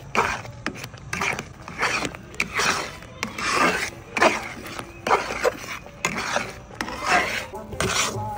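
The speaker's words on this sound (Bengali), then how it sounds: "এই যে দেখুন সুজিটা আমি ভালোভাবে নেড়ে নিয়েছি" Thick semolina cooked in milk for mohonbhog is stirred in a pan with a spoon, making repeated rasping scrapes in a steady back-and-forth rhythm, close and fairly loud, with no talk.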